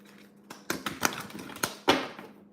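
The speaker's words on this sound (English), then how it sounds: "I'm just going to go ahead and shuffle some of the main cards that we're going to be using in this reading." Tarot cards are shuffled by hand, making a series of crisp papery slaps and riffles, close and irregular, with one louder snap near the end.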